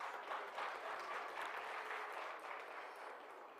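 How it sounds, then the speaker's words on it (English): Warm round of applause from an audience at a grants handover ceremony, a steady wash of many hands clapping that stays even for several seconds before easing slightly, fairly faint and without talk. "Can we please give them a warm round of applause?"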